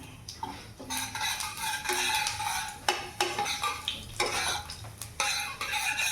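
Mustard and cumin seeds crackle in hot oil for a tempering, a close sizzle punctuated by metal spoon scrapes and clinks against the pan as it is stirred.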